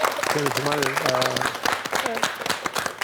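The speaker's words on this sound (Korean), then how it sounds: "여러분 한번 박수를 한번 하고 싶죠" An audience claps in a studio during a television talk show. Brisk, lively clapping runs throughout while someone speaks over it.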